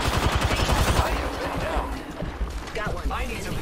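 Rapid gunfire in a video game arena match, likely the RE-45 pistol, fires as a dense volley of cracks that fades into scattered shots and mechanical clatter, with voice chat talking over parts of it.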